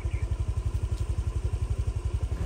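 A motorbike engine putters steadily up close while riding in Pai, Thailand, its rapid, even low thumping pulsing throughout with no voices.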